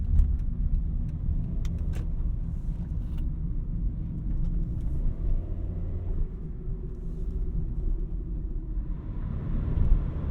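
A 2013 Honda Fit driving, heard from inside the cabin as a steady low road rumble and engine drone that stays even throughout, with no talking.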